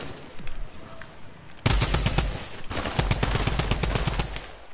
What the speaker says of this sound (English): Shotgun. Oh yeah, shotgun